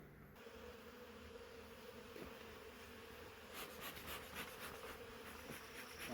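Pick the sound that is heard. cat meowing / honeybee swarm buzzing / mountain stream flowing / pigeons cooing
honeybee swarm buzzing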